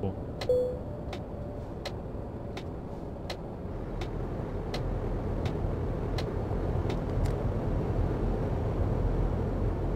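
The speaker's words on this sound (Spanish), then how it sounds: "Mirad, otro coche." A car passing in Euro Truck Simulator 2, heard as a steady engine and road rumble that builds slightly over the clip, with a regular ticking like an indicator.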